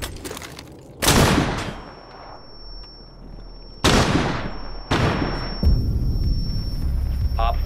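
Gunfire in Rainbow Six Siege: several sharp, loud bursts of shots hit at irregular intervals, each trailing into a ringing decay, with a high whine lingering between them and a voice speaking faintly underneath.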